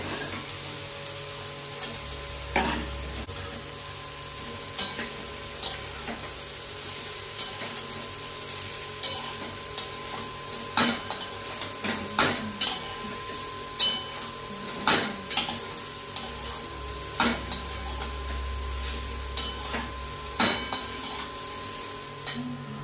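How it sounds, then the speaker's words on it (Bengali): Fried chicken and rice ingredients sizzle steadily in a pan while a utensil scrapes and clinks against it in irregular strokes, close and fairly loud, with no talk. "এরপর এই ভাজা চিকেন দিয়ে দিলাম, একসাথে সব ভেজে তারপরে ভাতগুলো মিশিয়ে দেবো।"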